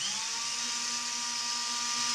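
A corded power drill fitted with a homemade constant-speed controller runs at a steady speed, giving a continuous whining hum with a steady tone and no talk.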